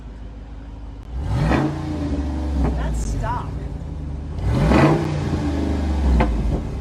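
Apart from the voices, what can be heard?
Jeep 392 active exhaust engine revving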